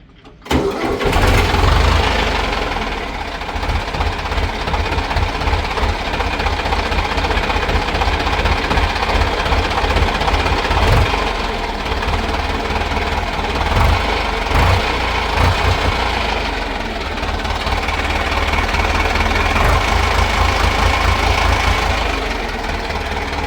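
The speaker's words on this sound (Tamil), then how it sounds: "இந்த இன்ஜினை வந்து ஸ்டார்ட் பண்ணுற சவுண்டு எப்படி இருக்குதுன்னு பாருங்கள்." An HMT 6522 60 HP tractor diesel engine cranks and catches, then settles into a loud, steady knocking idle that continues with slight surges throughout.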